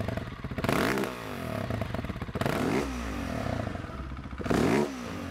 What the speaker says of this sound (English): what happens when you blip the throttle on a motorcycle that's standing still?